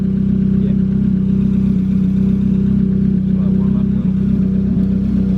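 A Toyota JZX90 with a turbo engine runs cold, making a loud, steady low drone with a firm, even hum and no clear revving, close to the microphone.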